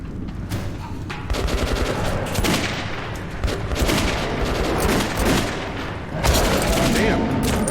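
Rapid gunfire aimed at beasts in Metro 2033 Redux, dense volleys of shots over a rumbling game backdrop, loud and continuous with bursts surging near the start, middle and end.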